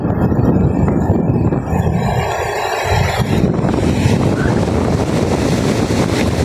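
Strong seaside wind during a storm buffets the microphone in loud, continuous gusts, with a roar of surf underneath.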